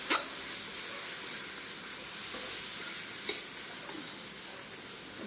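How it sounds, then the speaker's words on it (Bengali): Ground cumin and coriander with turmeric are stirred in hot oil in a pan, making a soft continuous sizzle with a few sharp spoon knocks against the pan. "এবারে একটু নাড়ানাড়ি করে নিতে হবে।"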